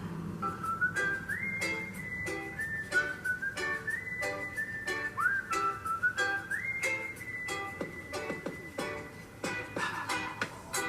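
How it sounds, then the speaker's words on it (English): A bright whistled melody glides over a pop beat with sharp percussive hits and backing music in a song, fairly quiet overall. "I like, personally, the whistle built into the musicality."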